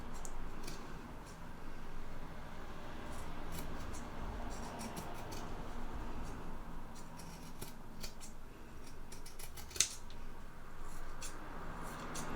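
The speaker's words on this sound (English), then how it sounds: "What we're going to do now is just trim back the excess, and we're going to trim it back by half." Scissors trimming excess fabric from the seam allowance of a sewn canteen pouch, faint, quick snipping cuts scattered over a quiet room background, with no talking.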